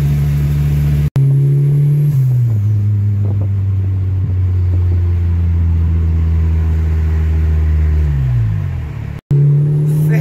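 A turbocharged Opel Corsa engine revs hard in a steady loud drone, pitch climbing and holding through the run, with a brief cut near the start and a drop before the end, heard close and with no talk.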